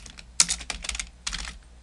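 Several quick bursts of keystrokes on a computer keyboard, with sharp clicks clustered in two short runs, close and clear with no talking.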